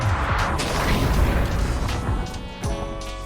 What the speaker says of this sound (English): Let's set the cannons. Now they're ready. And fire.